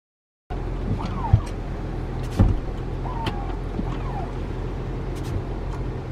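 Electric power-folding seats in a 2021 Cadillac Escalade whir steadily as a motor runs, with a couple of soft clunks and brief squeaks from the seat mechanism, close up inside the cabin with no talking.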